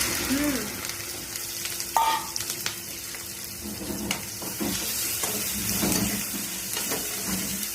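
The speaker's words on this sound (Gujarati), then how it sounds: "સરસ મજાનો વઘાર થાય છે." Okra tempering sizzles and crackles steadily in hot oil, a continuous close frying hiss with scattered pops and a few stirring scrapes, with no talk over it.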